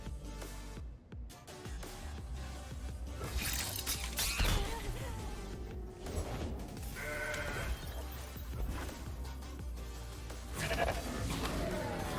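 A goat bleats in the Legends of Runeterra card game, its cry set within a busy, dense layer of game music and effects that runs on without a break.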